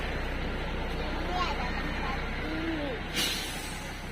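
A bus in Bali rumbles steadily nearby amid outdoor crowd noise, with a short hissing burst like an air brake releasing near the end while people talk in the background.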